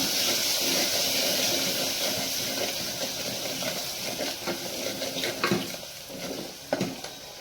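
Chickpea masala curry sizzles and hisses steadily in a pan while a spoon stirs it, with several soft scraping knocks against the pot toward the end.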